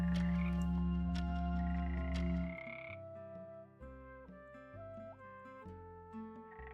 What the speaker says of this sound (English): Oh, there's the frogs.